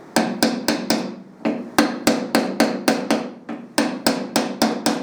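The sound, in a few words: hammer tapping steering head bearing race on motorcycle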